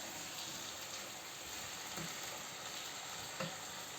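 Potatoes fry in a pan on a home stove with a soft, steady sizzle, faint and continuous, with a couple of brief stirring clinks and no talking.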